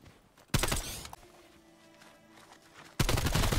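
Automatic AK-74U gunfire from Call of Duty Cold War Zombies erupts in two loud, dense bursts, one early and one at the end, with a quieter lull of game ambience between them.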